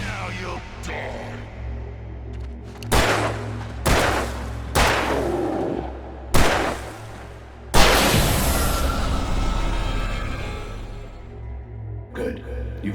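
Gunfire rings out in Alan Wake Remastered: several loud, sharp shots spaced a second or so apart, each with a booming tail, the last one longest, with a voice speaking around them.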